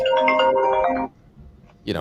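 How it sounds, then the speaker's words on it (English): A phone rings with an incoming call: a near, melodic electronic ringtone plays for about a second over room noise and then cuts off, and a voice starts speaking just after. "I've got a phone call coming in"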